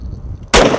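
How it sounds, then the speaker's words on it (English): A single loud shot from a Knuckle Jack short-barrel shotgun bursts out close by after a quiet moment, its heavy report sustained to the clip's end. "I think a shotgun is good because it's loud."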